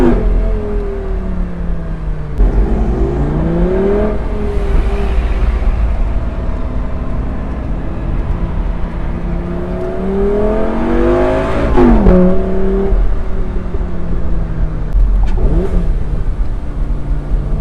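A 2008 Lamborghini Gallardo with a 5.0-liter even-firing engine accelerates hard, its loud, close exhaust sweeping up through the gears in rising revs, with brief dips at each shift and no voices.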